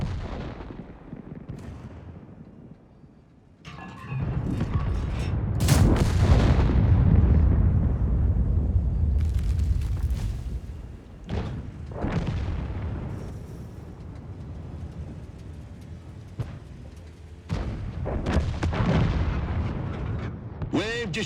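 A tank gun in World of Tanks fires several heavy booming shots, each with a rumbling tail, among the steady noise of the battle and several explosions over about twenty seconds.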